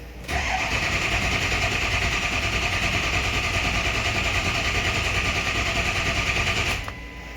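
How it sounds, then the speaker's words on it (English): A Ford 6.0 diesel engine cranks steadily for about six seconds without catching, air trapped in its high-pressure oil system, the starter whirring loud and even before cutting off abruptly. "this is going to take a while to crank because we have a ton of air in the high pressure oil system"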